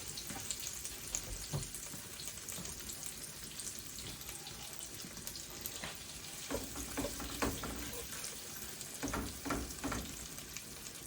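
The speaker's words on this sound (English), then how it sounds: "while the butter is melting" Butter melts and sizzles in a pan on the stove for a mushroom bisque, a steady close frying crackle with scattered clinks and faint running water mixed in.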